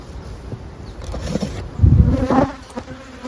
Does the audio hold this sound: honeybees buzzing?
yes